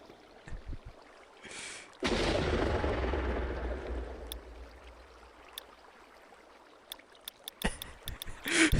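An energy beam weapon from the Minecraft Oritech mod fires a deep, roaring, rumbling blast that swells suddenly and holds for several seconds before cutting off, with faint clicks before and after.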